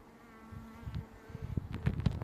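Honey bees buzzing around a backyard hive in hot weather, a steady low drone with individual insects passing close in brief louder swells, without speech.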